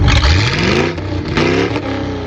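A loud truck engine, an old Ford OBS pickup with louder pipes, revs hard, climbing in pitch twice in quick succession with a rough, throaty roar close to the microphone.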